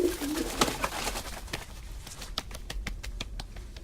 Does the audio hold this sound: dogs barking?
no